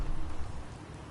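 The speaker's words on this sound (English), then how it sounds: "Kind of waiting for the rain to stop." Rain in the video game Fallout 4, a brief steady hiss of falling rain with a low rumbling undertone, constant and moderately loud.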